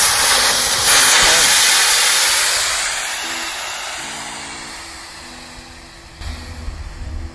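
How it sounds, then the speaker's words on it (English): Air hisses steadily out of the opened pin valve of a Nixy Newport G4 inflatable paddle board as it deflates, a loud broad rush that slowly fades over several seconds, with a brief clatter near the end. "And now we will be deflating the board, and I'll show you how."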